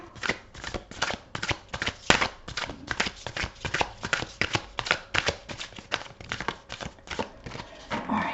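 Rapid, crisp riffling of tarot cards being shuffled, repeated bursts in a steady rhythm, close and fairly loud with no talking.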